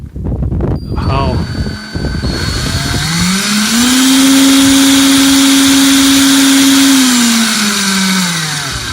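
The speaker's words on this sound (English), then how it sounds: "So I took the pin, the new pin, and I chucked it into my drill" A power drill with a new Ford 8N tractor pump pin chucked in it spins up and whines steadily at high speed for several seconds, then winds down, following brief clattering and handling noises at the start.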